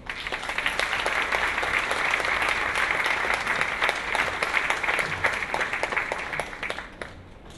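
Warm applause from an audience at a legal breakfast event welcomes a performer, sustained and dense for several seconds before tapering off near the end.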